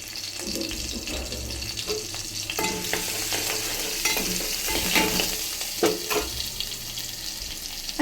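Crushed garlic frying in hot oil in a pot, a steady sizzle with scraping stirs and occasional sharper clinks and spatters, close and moderately loud.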